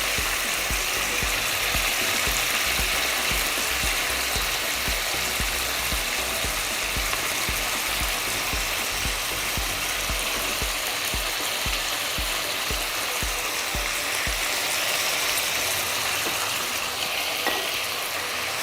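Mutton pieces fry in a hot pan with a continuous, close, loud sizzle, accompanied by repeated scraping and stirring strokes throughout.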